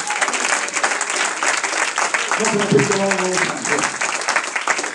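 A church congregation claps hands together during a lively service, a dense steady patter filling the space with a preacher's voice carrying over it.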